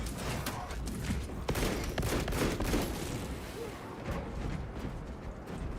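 Video game gunfire including sniper shots, sharp cracks and dense bursts of shooting repeating over a constant rumble of battle, fairly loud and continuous.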